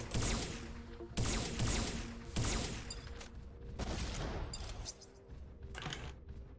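Gunfire in the video game MASS Builder: several sharp shot bursts in quick succession with ringing tails, fairly loud against a low game background.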